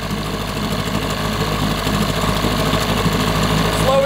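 A 1988 6hp Johnson Evinrude outboard motor with a stalling problem runs steadily at high idle, giving a loud, close, continuous buzzing drone with a fast rattling pulse throughout.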